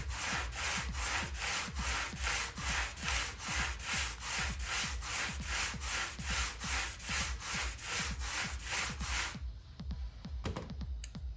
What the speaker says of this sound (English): I'm going to go ahead and use this little 80 grit sanding sponge that I got